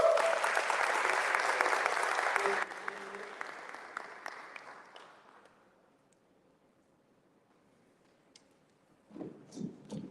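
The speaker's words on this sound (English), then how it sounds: "get another thunderous round of applause for my man, Jaden" Applause from a crowd at a high school signing day, loud and dense at first, then thinning to scattered claps and fading out before a few voices come in.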